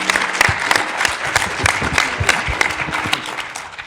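An audience applauds after a trading panel, with sharp individual claps standing out over a dense crowd patter, loud and close, tapering slightly at the end.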